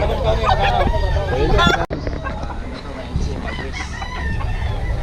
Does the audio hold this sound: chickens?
yes